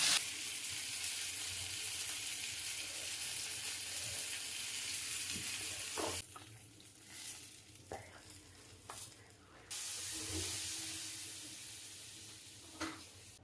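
Fish frying in masala in a hot pan: loud, steady hissing sizzle that breaks off midway, then a few knocks and stirring clatters before the sizzle resumes, close up, no talking.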